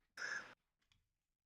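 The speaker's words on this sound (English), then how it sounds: "sorry, I'm yawning a lot." A single breathy yawn, a short airy exhale lasting about half a second, followed by a faint soft breath sound in a quiet room.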